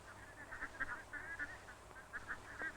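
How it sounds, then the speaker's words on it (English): Trained fishing cormorants give repeated honking, goose-like calls in an irregular series at moderate distance, over a low steady background hum. "These birds are called cormorants, and they have been taught to do the fishing for their master."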